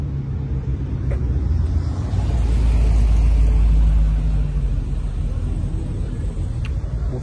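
A TVR sports car engine at a classic car gathering on Place Vauban, a steady, close, deep rumble that grows a little louder in the middle before settling back, with no talk over it.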